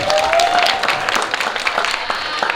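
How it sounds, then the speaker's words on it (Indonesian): Lively applause from an audience for the organizing committee at an event, dense clapping throughout with a faint tonal whine in the background. "Panitia juga saya ingin kita berikan tepuk meriah untuk panitia."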